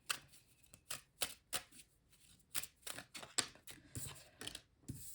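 Oracle cards are shuffled up close, a run of quick soft riffling swishes and slaps in an uneven rhythm, quiet and alone.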